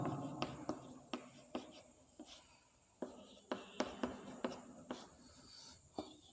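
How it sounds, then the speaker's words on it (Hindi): A pen writes by hand on paper, giving a series of close, scratchy strokes with brief pauses between them, faint and unaccompanied by talk. "इसका पॉइंट बाय पॉइंट लिखते हैं"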